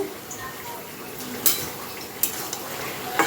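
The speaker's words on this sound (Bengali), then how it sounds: "লাউ ঘন্টটা আর একটু সিদ্ধ হবে" Bottle gourd curry (lau ghonto) cooks in a pan with a soft continuous sizzle and a few light scrapes and clinks of a stirring utensil against the pan, heard up close.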